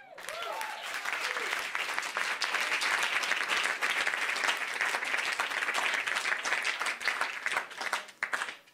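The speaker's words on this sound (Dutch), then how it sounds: "Mooi lang applaus en terecht." Long, sustained applause from an audience at a Dutch community café meetup after a poem recitation, dense and steady throughout before thinning out near the end.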